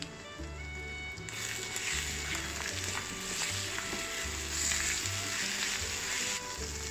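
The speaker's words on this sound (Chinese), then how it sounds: "给它炒拌均匀。" Osmanthus eggs stir-fried with sesame oil, salt and soy sauce in a hot pan, a loud sustained sizzle with intermittent stirring, over background music.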